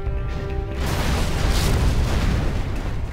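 Heavy booming artillery fire from an offshore battleship in the Command & Conquer Generals Zero Hour naval mission, a dense, continuous rumble of blasts that fills the clip after a brief tonal start.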